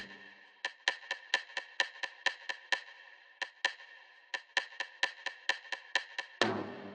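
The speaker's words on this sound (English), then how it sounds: "I found a sample that I had in my library here, and a little stick percussion" A dry, woody stick percussion pattern of quick, evenly spaced clicks in two bursts, crisp and close, ending with a brighter hit.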